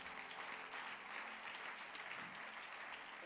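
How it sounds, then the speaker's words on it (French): A church congregation applauds and cheers in praise of the Lord, steady sustained clapping from many hands filling the space, even and continuous throughout, heard at low volume. "Waouh, on peut acclamer le Seigneur."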